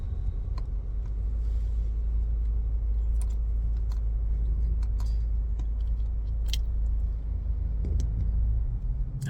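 Car driving along a road, a steady low engine and road rumble filling the whole stretch, with faint ticks and clicks from the cabin scattered over it.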